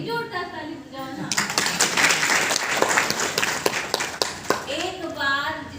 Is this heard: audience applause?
yes